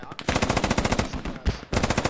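Automatic gunfire in the military shooter game Squad rattles out in rapid, loud bursts for about two seconds, with a short break before firing resumes.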